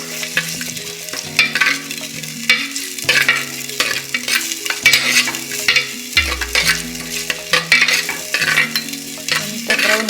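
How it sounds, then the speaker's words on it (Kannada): Chicken sizzles in a hot pan while a utensil stirs and scrapes it in repeated strokes, with a steady tonal hum in the background. "ಕಲರ್ ಬರೋಡು ಚಿಕನ್ ಫ್ರೈ ಮಾಡ್ತೀವ"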